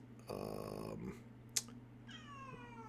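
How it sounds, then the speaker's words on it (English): A house cat meows quietly indoors, first in a drawn-out call and then in a falling meow near the end, with a faint thump in between and a low steady hum underneath. "hello cat"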